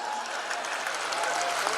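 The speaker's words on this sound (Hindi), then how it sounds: "ताली बजाओ" Audience applause at a large Hindi kavi sammelan poetry gathering, a steady dense wash of clapping from a crowd, held at even loudness throughout with no talk over it.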